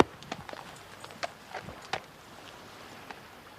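Horse hooves clip-clop at an unhurried walking pace, several distinct knocks spaced out, with quieter background noise between them and no speech.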